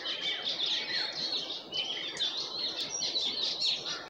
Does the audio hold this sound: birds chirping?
yes